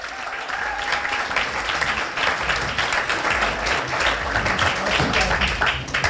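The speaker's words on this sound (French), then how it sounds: "Merci de l'applaudir, Alix Guillaume." An audience applauds a radio host candidate at a radio fair competition, a continuous even roar of many clapping hands, fairly loud and steady throughout.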